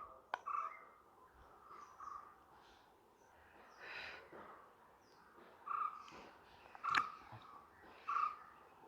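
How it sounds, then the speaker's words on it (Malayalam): Soft, close chewing and biting of homemade butter chicken comes in quiet bursts against a faint background, with a few sharp clicks. "ഇന്ന് നമ്മൾ ഉണ്ടാക്കിയ ബട്ടർ ചിക്കൻ ഒന്ന് ടേസ്റ്റ് ചെയ്ത് നോക്കണ്ടേ"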